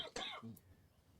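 A person in a casual podcast studio setting coughs or clears the throat once, a short harsh burst near the microphone, followed by quieter low murmuring.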